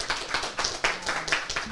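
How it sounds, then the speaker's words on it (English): A small crowd claps for reservists at an event, rhythmic bursts of hand claps at fairly close range over a short stretch. "If we could give them another round of applause"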